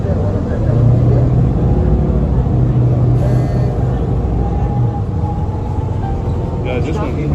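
Inside a 2015 NABI 40-foot LFW Gen III diesel transit bus on a Miami-Dade route, a loud, continuous engine drone and gritty, gravel-like road rumble run beneath talking passengers.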